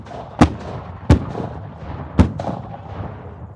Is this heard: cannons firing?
yes